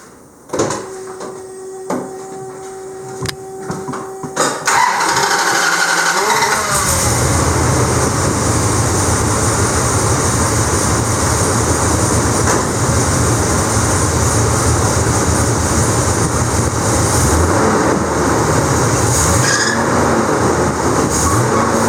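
A V8 car engine fitted with a Thermoquad carburetor cranks and catches after a few quiet clicks, then runs with a loud, steady roar close by for the rest of the stretch.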